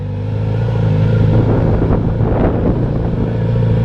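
A Kawasaki Z900RS motorcycle idles loudly up close, its engine rumbling steadily and swelling slightly as it pulls away in first gear.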